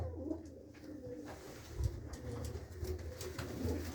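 Pigeons coo in soft, repeated low calls close by, with faint rustling and a noisy background.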